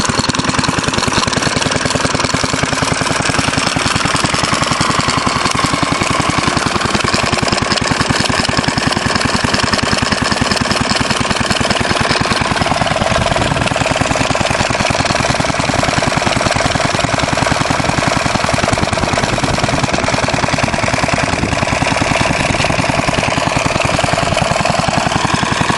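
A Fairbanks Morse Z/D stationary engine with an uncommon muffler runs steadily and loudly throughout, its continuous close chugging drone shifting slightly in tone partway through, with no voices.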